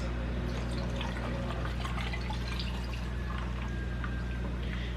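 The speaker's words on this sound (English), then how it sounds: "pour this over my ice" Green tea lemonade being poured over ice, a steady faint trickling pour under a constant low background hum, no talking.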